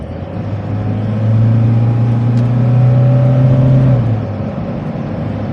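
A 2022 Toyota Camroad camper van with dual rear tires accelerates from 40 to 80 km/h on an expressway slightly uphill, its engine note rising in a steady drone that swells for a few seconds and then settles, heard from inside the cab.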